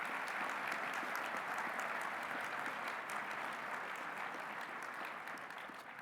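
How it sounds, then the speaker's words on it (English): Sustained applause from a convention audience fills the room evenly, a dense steady clatter of many hands that holds throughout and eases only slightly near the end. "So how about a round of applause for them as well?"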